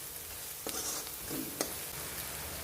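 Tomatoes and spices frying in oil for turia sabzi, a quiet steady sizzle with a couple of sharp stirring clicks from the pan.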